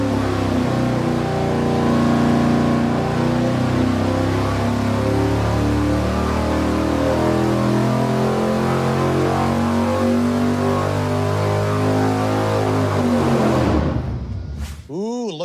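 A big-block Chevy V8 with dual-plane intake and stiff pushrods roars under load on a dyno, a steady loud rising pull lasting about fourteen seconds before cutting off abruptly.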